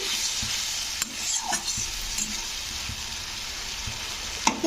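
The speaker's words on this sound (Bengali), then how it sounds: "টমেটোটা দিয়ে একটু কষে নিতে হবে যতক্ষণ না টমেটোটা গলে যাচ্ছে" Tomato being stir-fried in a pan for catfish curry, a steady broadband sizzle with scattered spatula scrapes and clicks throughout, close and continuous with no talking.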